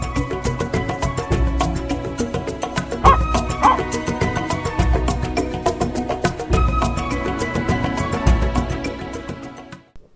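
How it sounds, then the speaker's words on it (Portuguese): Police dogs bark and yip in rapid, loud bursts amid busy, layered activity, with a steady rhythmic thumping underneath throughout. "conheça os cães policiais em ação"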